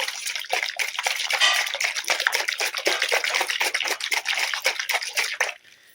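A watery liquid drink is shaken in a lidded container, giving rapid, rhythmic sloshing splashes close by for several seconds before stopping abruptly.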